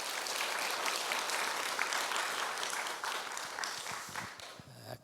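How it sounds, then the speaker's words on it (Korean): A church congregation at a Wednesday worship service claps steadily for about five seconds, a dense, loud wash of many hands that thins out and breaks into a few scattered claps at the end. "박수 한번 해주세요."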